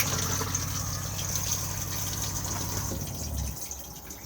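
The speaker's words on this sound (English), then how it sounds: "just slide the grey lever across, push the flush on the top" Flush of the cassette toilet in an Elddis Majestic 105 caravan: a steady close gush of water with a low pump hum that runs for about three and a half seconds, then cuts off, leaving a quieter tail.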